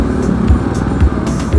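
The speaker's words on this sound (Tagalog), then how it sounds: "Oh, traffic na naman" Busy road traffic of cars and motorcycles passing on a wet street on a rainy afternoon, a steady close engine rumble with swells as vehicles go by.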